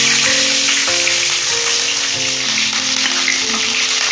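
Curry leaves hitting hot oil give a bright, steady sizzle and crackle, loud and close, holding evenly throughout with no talk.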